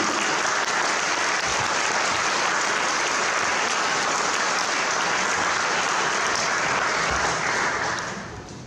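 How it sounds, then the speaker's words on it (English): A crowd in the Hoosier Gym, at a celebration of the Hickory players and movie extras, gives a long, sustained round of applause, a thick steady roar of clapping that tapers off at the very end. "A round of applause, please."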